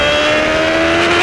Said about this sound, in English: This was Pastor Maldonado's car and it's still in race trim. Cosworth V8, 750 horsepower, and it weighs just 640 kilograms